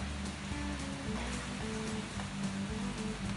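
Steady rain falls outside at a mountain resort in Khao Kho, Phetchabun, a continuous dense hiss of drops on surfaces without pause, no voices over it.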